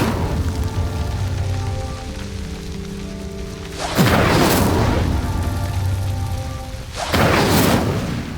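Incendio fire spell cast in the video game Hogwarts Legacy, two loud whooshing roaring bursts of flame over a sustained musical score, the first bursting midway and the second near the end.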